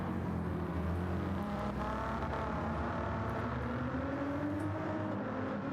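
Race cars in a racing video game on the Nürburgring drone and rev steadily, with engine pitch rising and falling as cars pass, including a Murciélago. Loud and continuous, no talk.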